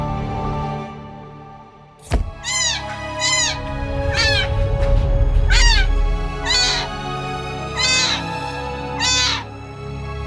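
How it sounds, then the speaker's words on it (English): A kitten stranded on a roof cries for help, giving about seven loud, high, wavering meows in a row at close range, with a sharp thump just before the first and background music underneath. "A kitten is crying for 3 days on the roof, crying for help."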